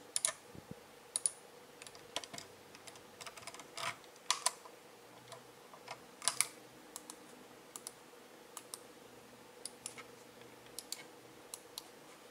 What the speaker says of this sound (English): I can let you hear some of the click noises.